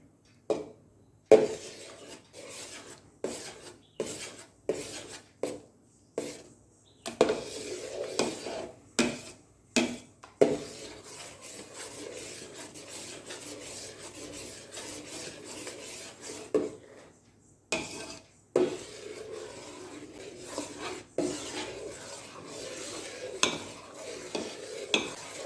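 A ladle stirs melting butter in a pan over a flame while ghee is being made, giving repeated scraping clinks and knocks in an uneven rhythm, close by, with a faint sizzle between strokes.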